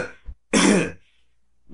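One short, harsh cough or throat-clear bursts out close and loud, with quieter vocal sounds just before and after it.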